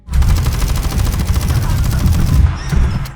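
Rapid automatic gunfire rattles loudly and continuously for about two and a half seconds, then cuts off into a brief echoing tail.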